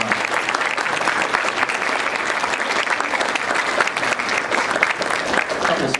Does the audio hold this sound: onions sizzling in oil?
no